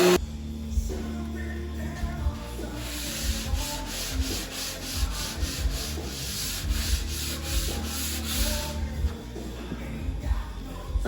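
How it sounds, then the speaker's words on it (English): Wooden podium front and base pieces are sanded by hand, with continuous close rasping strokes in a steady back-and-forth rhythm and no talk over them. "I'm done with sanding."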